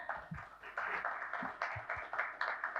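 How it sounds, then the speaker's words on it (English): An audience at a conference on family businesses claps for the speakers, faint, distant applause swelling in uneven waves, with a few voices in the background. "A big round of applause for all the speakers"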